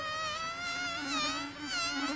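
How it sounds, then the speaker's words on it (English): Mosquitoes and other biting bugs whine continuously close by, a steady high-pitched buzzing that wavers in pitch as they fly around, heard alone without voices. "it's those pesky mosquitoes again,"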